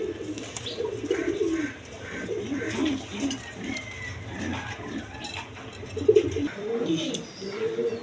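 Lotan pigeons at a pigeon seller's stall cooing repeatedly in low, rolling bursts, fairly close, with clinking dish-like sounds and a brief louder knock near the end.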